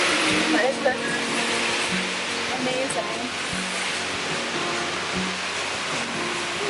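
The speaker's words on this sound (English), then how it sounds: "I'm behind the waterfall, soaking wet." Heavy roar of water right behind an Icelandic waterfall, a dense, steady wash filling the whole clip close up, with a person speaking briefly over it.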